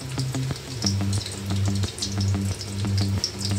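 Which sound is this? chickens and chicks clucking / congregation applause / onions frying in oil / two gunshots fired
onions frying in oil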